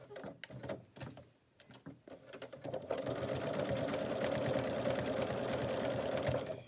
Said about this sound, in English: just continue to stitch all the way around each hexie